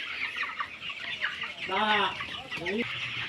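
Chickens cluck close by, with a few sharper squawking calls standing out over a low barnyard murmur.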